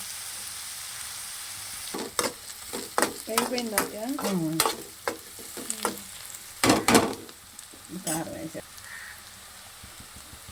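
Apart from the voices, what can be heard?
frying in a pan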